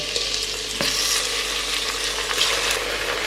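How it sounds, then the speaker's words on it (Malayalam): About three-quarters of a kilo of chicken fries in hot oil spiced with cardamom and cinnamon for masala rice, giving a steady, close, hissing sizzle with small crackles and no talking. "ഈ എണ്ണയ്ക്കകത്ത് കിടന്ന് ചെറുതായിട്ടൊന്ന് ഫ്രൈ ആയി കളറ് മാറട്ടെ"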